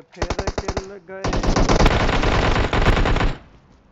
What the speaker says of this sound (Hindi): क्यों गोली चलाता है तू?